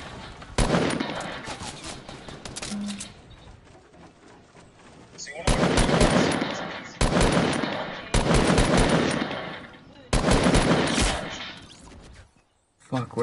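Bursts of rapid machine-gun fire in a video game, several loud close volleys separated by short lulls, with voices talking in between.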